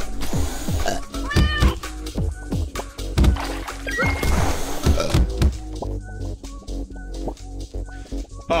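Cartoonish cat meows from the video game Turnip Boy Commits Tax Evasion, several short mewing calls over game music, thumps and crashes, fairly close and moderately loud.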